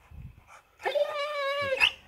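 A dog gives one drawn-out, high whining whimper lasting about a second, close and fairly loud, after a few soft rustles, with no talking over it.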